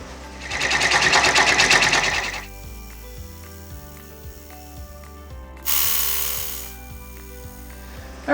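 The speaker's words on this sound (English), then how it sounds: "And then we're going to run our final satin stitch." An embroidery machine running a satin stitch while finishing an Easter towel topper gives two loud bursts of rapid mechanical needle chatter, with a quieter clicking, humming stretch between them.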